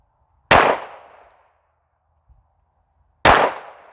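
A Springfield Armory Echelon 4.0C pistol fires two sharp, loud shots about three seconds apart, each ringing off briefly into near silence, with no talking.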